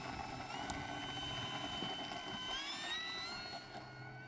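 A 1.2 m P-51D Mustang "Cripes A'Mighty 3rd" radio-controlled model plane taking off on its maiden flight: a steady whining electric motor drone that rises in pitch partway through, then eases off slightly, heard outdoors without talk.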